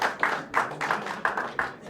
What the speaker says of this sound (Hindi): जोरदार तालियों से प्रदीप तथास्तु तिवारी भैया।